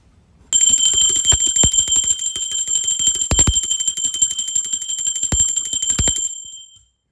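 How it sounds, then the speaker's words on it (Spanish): A bright, rapid, continuous ringing bell, like an alarm-clock bell, sounds loud and close for about six seconds to open a spoken synopsis, then decays. "ahora sí, va campana"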